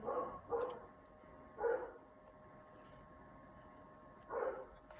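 Muffled barking from a dog some distance away: a quick double bark, a single bark, then a long pause before one more, over a faint steady hum with no voices.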